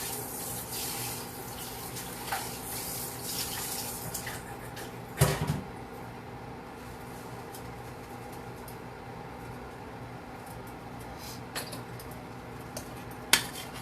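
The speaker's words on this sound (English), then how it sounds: "Now I'm going to go ahead and pour this milk in." Milk pours steadily into a pan on a home stove while cooking macaroni and cheese, a continuous soft watery rush with a brief clatter midway and a couple of sharp clicks near the end.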